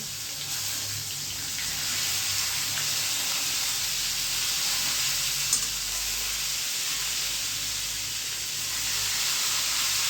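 A steady, bright hiss of eggplant sizzling in hot oil with garlic, with frying crackle continuing for the whole stretch and a single faint click midway after the gas flame is turned off.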